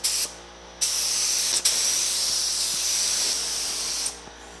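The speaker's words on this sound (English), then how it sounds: "Let's get a little primer on this front piece here." A spray gun hisses as primer goes onto the front piece of a 1950 Chevy truck, in three sustained bursts with brief pauses between them, loud and close.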